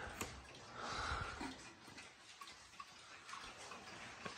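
A worn-out one-day cuckoo clock ticks faintly and steadily after being wound, its quiet regular clicks set against a soft hiss of background noise.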